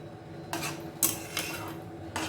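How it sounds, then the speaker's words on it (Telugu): Vada curry being stirred in a metal pot with a spoon: four or five distinct scraping, clinking strokes against the pot, close and fairly loud, with no talking. "చూడండి వేసి ఇట్లా కలుపుకోవాలి"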